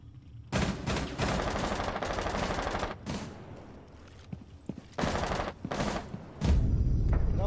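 Bursts of SMG-11 submachine gun fire in Rainbow Six Siege on the Clubhouse map, rapid rattling volleys that come loud and close, broken by short pauses, with a final heavy burst near the end.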